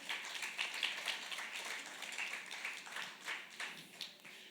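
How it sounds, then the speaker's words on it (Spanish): A congregation at a worship service claps in a steady, dense wave of applause that swells and fades, moderately distant and unaccompanied by talk. "Dese un aplauso, claro que sí."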